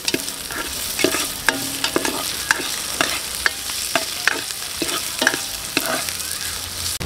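Garlic, ginger and onion sauté in a hot pan for a seafood soup, a steady close sizzle broken by scattered clinks and scrapes of stirring, with no talking.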